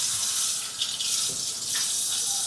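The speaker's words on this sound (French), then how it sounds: "Donc, ce que je fais, je le passe sous l'eau." A stale two-day-old baguette is held under a running tap, giving a steady close hiss of flowing water with brief splashy shifts as the bread moves through the stream, no talk.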